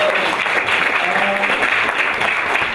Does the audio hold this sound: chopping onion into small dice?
no